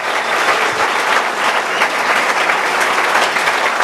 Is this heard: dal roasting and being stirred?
no